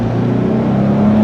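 A 2013 Jeep Wrangler Sahara engine roars under full throttle, a steady loud strained drone with rising revs, heard alone.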